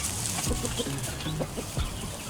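A Shamo hen clucks softly in a few low, broken notes amid a chicken yard. Steady hiss and rustling from other birds sit underneath.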